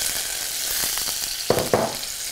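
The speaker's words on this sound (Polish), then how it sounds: "Lekko przysmażamy" Chanterelle mushrooms fry lightly in a pan with a steady soft sizzle, broken by a couple of sharper crackles and spits near the end, no voices.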